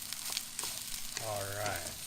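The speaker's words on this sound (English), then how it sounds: "Put our rice in. Okay, and mix it with all the ingredients." Smoked fish fried rice sizzling in a pan as it is stirred, a steady close frying hiss with a short whine or squeak near the end.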